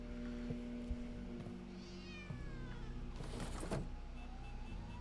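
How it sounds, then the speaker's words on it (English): A cat in the video game The Operator meowing unhappily, a couple of drawn-out, wavering cries over a steady low hum and ambient game sounds, no talking. "Why did the cat sound like it was unhappy?"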